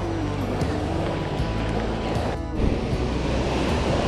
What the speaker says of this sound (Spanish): Está bien fuerte el mar, como les dije, la ola está bien fuerte.